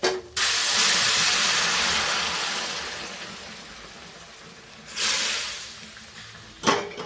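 Water poured bit by bit into roasted wheat flour for village-style atta halwa, hissing and sizzling steadily for several seconds and fading, then flaring up again in two short bursts, with no talking.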